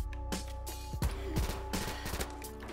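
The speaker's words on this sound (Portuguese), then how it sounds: "Vou pegar sua arma e vou te matar com ela." Gunfire in Call of Duty, a rapid burst of game shots with sharp repeated cracks over a steady background score, most concentrated around the middle of the short stretch.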